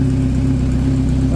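A Kawasaki Z900 A2 motorcycle with a newly fitted exhaust manifold runs at a steady idle, a close, even, low mechanical rumble that holds constant for the whole brief moment.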